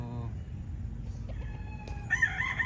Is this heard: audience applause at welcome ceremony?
no